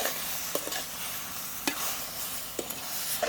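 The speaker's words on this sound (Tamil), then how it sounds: "இப்போ தூளும் உப்பும் போட்டு பிரட்டி வச்சுருந்த இறைச்சியை இப்போ இதுக்கு கொட்ட போகிறேன்" Spiced pork sizzles and fries in a pot with a steady crackle, broken by a few sharp scrapes and clinks of a spoon stirring.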